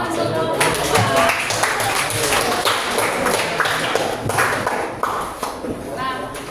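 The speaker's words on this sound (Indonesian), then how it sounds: "Beri tepuk tangan, nak, untuk kelompok 4." A classroom of students applauds for a group of classmates, dense steady clapping filling the room with a voice speaking over it.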